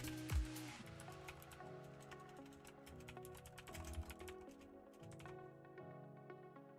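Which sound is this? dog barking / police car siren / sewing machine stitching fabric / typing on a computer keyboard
typing on a computer keyboard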